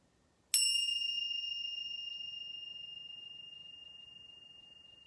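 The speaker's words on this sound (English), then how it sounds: "So I'm going to ring a chime." A meditation chime is struck once, giving a clear bright ring that hangs as a pure sustained tone and slowly fades over several seconds in an otherwise quiet room.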